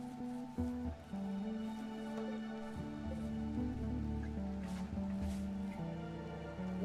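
Steady rain falls in the Rimworld video game, a soft continuous patter with scattered drips under a humming tonal game soundtrack, no voices.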